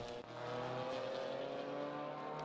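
Race cars in the TRC BMW 246 Challenge at the Red Bull Ring, a steady droning chorus of engines at racing revs with shifting pitched whines, heard as a continuous group sound rather than a single pass.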